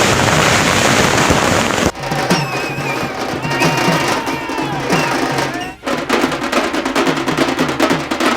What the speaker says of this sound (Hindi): पटवारी के आवास पर जमकर आतिशबाजी की गई